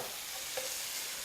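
Ingredients stirred through in a hot pan with a little salt, giving a faint steady sizzle and one soft scrape of the utensil midway, close and quiet, with no talking.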